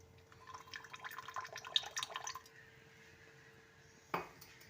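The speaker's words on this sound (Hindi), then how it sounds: "अब हम अपनी हांडी में डालने लगे हैं हम ऑयल" Cooking oil pours into a handi pot with a soft liquid splash and trickle for about two seconds, then quiet, then a single sharp clink of the container near the end.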